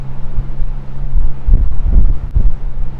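Gusty wind buffets a sailboat, a low rumbling roar that swells and fades in uneven bursts, close and loud.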